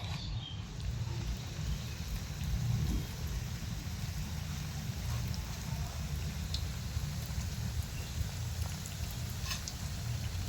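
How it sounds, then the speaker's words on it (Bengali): Pieces of bread fry in hot oil, giving a steady, dense crackling sizzle at moderate loudness that carries evenly throughout with no one speaking. "এবার আমি পাউরুটিগুলো ভেজে নেবো"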